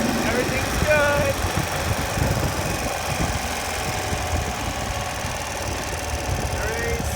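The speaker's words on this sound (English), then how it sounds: "just makes that horrible noise when working in the clutch" A Ural Patrol motorcycle engine makes an odd noise while the clutch is worked, heard as a steady mid-pitched running drone with a faint rattle throughout, close to the microphone and continuous.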